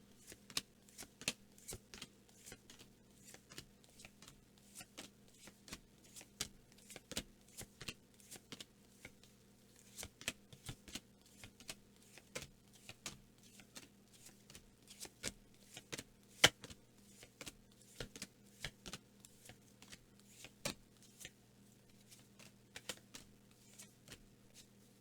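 Tarot cards are shuffled and laid out on a table in a steady run of soft, quick riffling clicks and slaps, close and fairly quiet, with no talking over a faint background hum.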